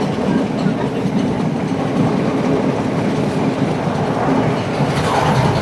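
A train runs along the Indian Ocean coast near Colombo, heard from on board as a loud steady rumble with rhythmic clickety-clack of wheels over rail joints and a faint squeal near the end.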